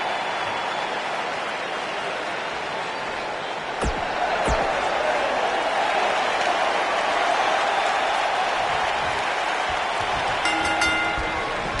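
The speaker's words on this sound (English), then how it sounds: "The crowd is buzzing." Arena crowd in the WWE 2K19 wrestling video game keeps up a steady, loud buzzing roar throughout, with a couple of sharp impact thuds and some brief electronic tones near the end.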